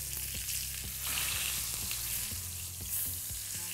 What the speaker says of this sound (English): now that I've turned the steak over, that's that beautiful caramelization happening there